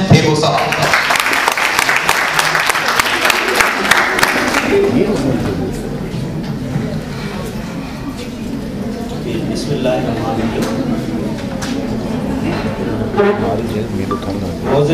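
An audience bursts into loud, sustained applause for social activist Hussain Thebo at a Kashmir Day event at Karachi University, the clapping thinning slightly midway, with crowd murmur underneath.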